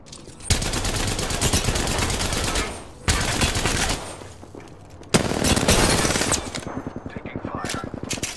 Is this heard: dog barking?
no